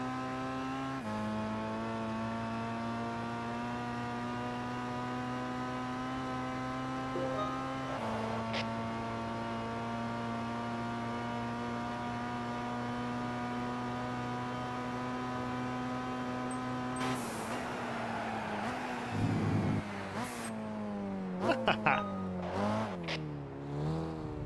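Gran Turismo 5 super car engine holds a steady, muffled droning hum for most of the run, then turns rougher near the end with short revs and bursts of tire noise. No one speaks.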